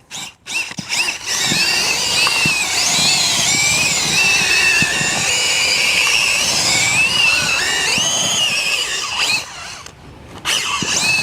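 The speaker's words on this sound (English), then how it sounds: "This is a 4-inch auger for a drill." A corded drill turning a 4-inch auger churns potting soil and perlite for a sweet potato tower, giving a steady, loud whining grind that runs for about ten seconds before stopping briefly and starting again.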